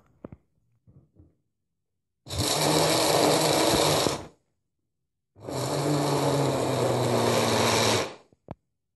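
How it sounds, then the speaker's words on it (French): A food processor grinds peanuts into a fine powder in two loud, steady whirring bursts of about two seconds each, separated by a short pause, with faint clicks before and after. "Il faut cette fois encore mixer les cacahuètes pour obtenir une poudre très fine"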